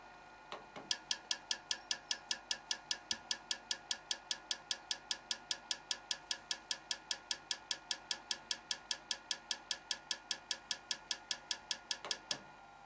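A minimum-quantity lubrication injector running without compressed air ticks out rapid, evenly spaced sharp clicks for about twelve seconds, faint and mechanical against a quiet workshop background.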